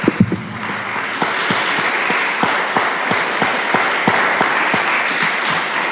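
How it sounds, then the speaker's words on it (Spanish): Church congregation breaks into sustained applause, a dense wash of clapping with scattered sharper individual claps throughout, fairly loud and steady with no talk over it. "vamos a darle un aplauso a Dios"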